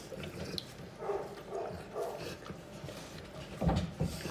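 A puppy whimpers and yips in short, soft bursts near the microphone, with a louder cluster of whines toward the end.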